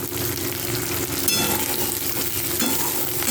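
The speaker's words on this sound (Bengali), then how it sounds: "এর মধ্যে কিছুটা পরিমাণ আরও তেল দিয়ে দেবো আমি।" Onions with crushed garlic frying in oil in a pan, giving a loud, dense and continuous close-up sizzle with faint stirring underneath.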